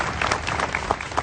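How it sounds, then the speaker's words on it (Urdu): Studio audience clapping at a televised talk show, a steady patter of many hands, fairly close and moderately loud throughout the short burst, with no one talking over it. "ایک آڈینس ذرا تالیاں بجا کے اپنی موجودگی کا احساس دلا دے ذرا ہمیں بھائی"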